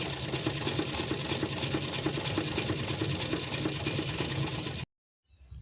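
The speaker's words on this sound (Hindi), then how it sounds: "इसी के ऊपर अब हमने सिलाई लगा दी है।" A sewing machine stitches a frock seam with a fast, steady whirring rattle up close, running continuously for several seconds before stopping abruptly.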